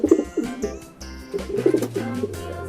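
A pigeon coos softly and repeatedly, low throaty burbling calls in an uneven rhythm, heard nearby with slight background noise.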